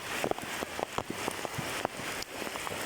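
Heavy rain from a typhoon, with high tide, falls in a continuous hiss, with scattered drops pattering on a nearby surface; fairly soft and steady, with no voices.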